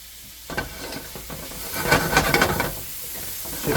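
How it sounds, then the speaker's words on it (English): Onions hit a hot non-stick pan and start sizzling, a close, hissing crackle that swells as they are stirred and then settles back slightly. "I'm gonna throw these onions on here."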